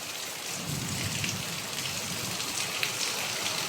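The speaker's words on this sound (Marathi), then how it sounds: "हा जो आता पहिला पाऊस आहे ना" First monsoon rain falling in the Konkan region, a steady broadband patter of raindrops on surfaces, continuous and fairly close with no distinct thunder claps or voices.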